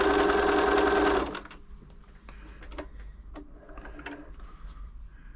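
Bernina B325 sewing machine, just serviced, running a short loud stitching burst on fabric, followed by quieter clicks and handling noises of the machine close by.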